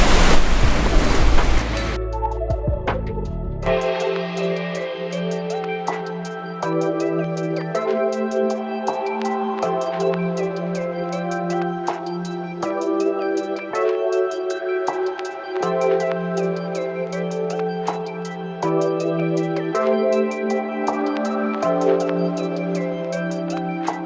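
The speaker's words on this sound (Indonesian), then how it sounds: "Menikmati makan sambil ada deburan ombak ya di pantai yang silih berganti." Ocean waves breaking on the beach at Lhokngha surge as a loud, broad rush in the opening seconds, then give way to steady tonal sound that carries on over a softer background wash.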